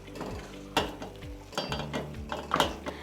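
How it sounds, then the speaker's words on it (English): A utensil scrapes and stirs browned bits from the bottom of a pan while risotto cooks, giving irregular scratchy scrapes and clinks over a steady kitchen background, close and moderately quiet. "finish scraping up any brown bits that stuck to the pan"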